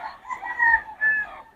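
A rooster crows twice in quick succession, close and clear, with chickens clucking softly around it at a poultry seller's yard, no speech over the calls.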